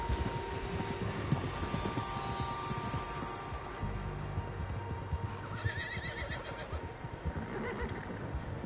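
Several horses in the video game Red Dead Redemption 2 neigh and whinny among clip-clopping hooves, a busy, continuous herd sound at moderate distance with no talking.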